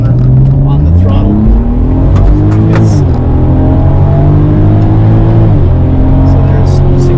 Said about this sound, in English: Just gently turning the corner on the throttle.